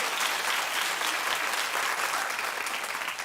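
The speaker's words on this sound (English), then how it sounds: "Stop clapping for Tori Spelling, unless you want to clap." Dense, steady clapping from a television talk show studio audience, close and full throughout, with no talking over it.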